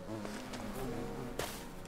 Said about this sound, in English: and then the bees will hopefully be quiet